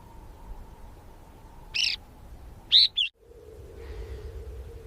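A red-billed oxpecker gives a few short, sharp, high calls, three brief bursts close together over a faint steady background hum.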